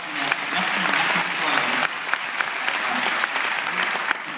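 Loud, dense applause from an audience at a kickoff meeting in Strasbourg, a steady roar of many clapping hands with sharper individual claps standing out throughout.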